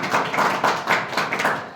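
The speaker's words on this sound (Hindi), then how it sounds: "जोरदार ताली भैया के लिए कर" A classroom of students claps for a classmate, a short burst of brisk, fairly close hand claps in uneven rhythm.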